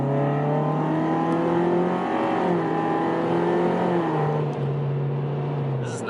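A widebody Mitsubishi Lancer GT accelerates hard in second gear, its engine note climbing steadily in pitch from inside the car, then dropping briefly at a gear change and rising again as it pulls.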